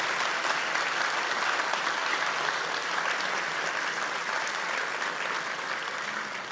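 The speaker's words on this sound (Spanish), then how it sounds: "Gracias a ustedes por acompañarnos con el aplauso." A large audience applauds at the 17th World Harp Festival in Asunción, Paraguay, a steady, dense wash of clapping that holds evenly from start to finish with no voices over it.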